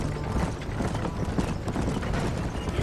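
Horse hooves clip-clopping steadily during a ride in the Red Dead Redemption video game, a continuous rhythmic patter under game ambience with no talking.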